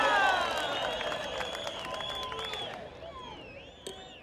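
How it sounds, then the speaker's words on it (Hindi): Large outdoor political rally crowd at Rahul Gandhi's Bangalore speech, with scattered clapping and a shouting, whistling crowd murmur that fades slightly toward the end, with no speech over it. "थोड़ा जोर से ताली बजाइए, ऐसे कैसे ताली बजा रहे हैं"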